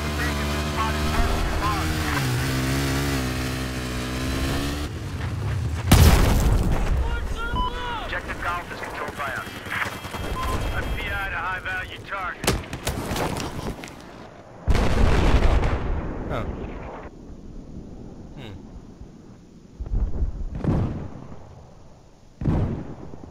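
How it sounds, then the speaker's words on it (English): Tank cannon fire and explosions in Battlefield 4 on the Silk Road map, heavy booming blasts landing at irregular intervals amid wind-like rumble, with players talking over the action. "Tank is firing at us from across G."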